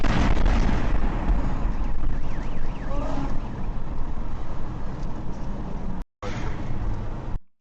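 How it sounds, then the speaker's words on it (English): Drones exploding over Kharkiv at night: a loud, continuous roar of blast and rumble that starts with a heavy burst and stays dense and distorted throughout, with a brief cut near the end, in a phone recording. "we got an 11-second clip of drones exploding in Kharkiv last night"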